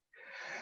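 A single close, breathy sneeze bursting out abruptly and trailing off as a hissy exhale, quiet overall, with no talk.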